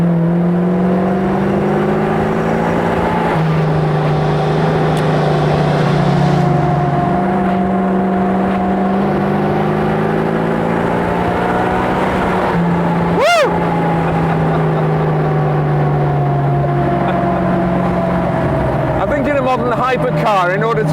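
A Blower Bentley vintage car drives with a loud, steady engine drone rich in harmonics. Its pitch swells and dips with throttle changes, with a sharp surge around the middle, all heard close from on board.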